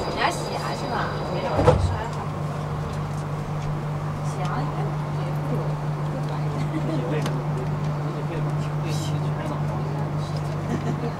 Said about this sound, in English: Please hold on. Train is departing.